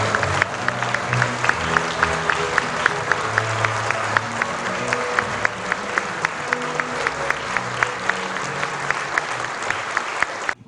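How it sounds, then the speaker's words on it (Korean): A large audience at a commemoration ceremony and special lecture by President Roh Moo-hyun applauds steadily, a dense, sustained wash of clapping lasting about ten seconds before tapering off. "힘찬 박수 부탁드립니다"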